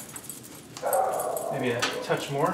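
A pet dog barks and whimpers in a home kitchen, short yips and whines coming in bursts close by while someone speaks over them.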